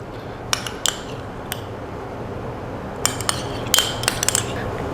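A spoon stirs mayonnaise with a squeeze of lemon in a bowl, giving several light, scattered clinks and scrapes against the bowl over a low steady background hum.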